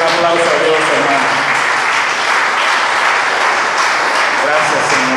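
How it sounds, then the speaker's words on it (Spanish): Church congregation applauding during a Spanish-language worship service, a dense, steady wash of clapping held at full level throughout, with voices mixed in. "Denle un aplauso a Dios"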